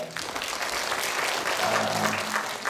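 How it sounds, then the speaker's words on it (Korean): A church congregation claps during a Sunday service, steady dense applause throughout, with a brief faint voice or tone partway through. "박수 한번 칠까요?"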